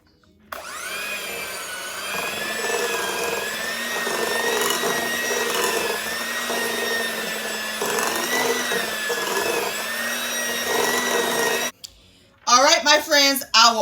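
An electric mixer whirs steadily as it blends orange food gel into buttercream icing, a loud continuous motor hum lasting about eleven seconds with small shifts in pitch, then stopping before a voice speaks.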